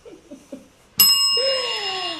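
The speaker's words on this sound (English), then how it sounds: "Apparently the bell was just in front of me." A teacher rings a small desk bell once after a few soft taps, giving a bright, clear ding that rings on and fades slowly, close and loud.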